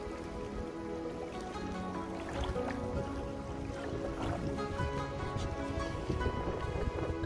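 A motorboat cruises on the water near an island, its engine a low steady drone under constant splashing and rushing water, with no talking.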